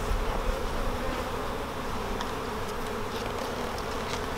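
A steady, dense hum of many honey bees buzzing close by at a nucleus colony hive, continuous and even throughout, with no voices.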